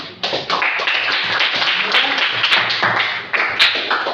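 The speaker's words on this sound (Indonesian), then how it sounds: "Tepuk tangan." A classroom of students applauds in a quick burst, many hands clapping densely and unevenly at close range, with a few sharper slaps standing out over the steady patter.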